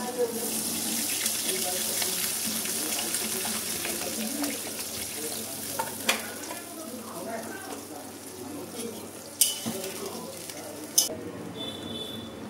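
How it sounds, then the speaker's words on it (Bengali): Water runs steadily into a cooking pot of dal with potatoes and spices frying in oil, a continuous splashing pour with a few sharp clinks of utensils near the end, close and fairly loud. "এবার আমি জল দেব।"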